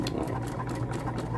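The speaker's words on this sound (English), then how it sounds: "This is how I sew." A sewing machine stitches a dog bandana in a fast, steady mechanical whir with rapid needle ticking, close and continuous throughout.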